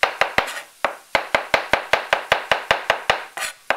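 A knife chops mushrooms on a cutting board, a steady run of about sixteen sharp, close, loud knocks with a brief pause near the start and again toward the end, with no talking.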